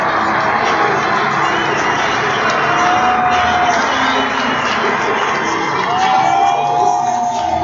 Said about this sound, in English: Huge hand from the crowd.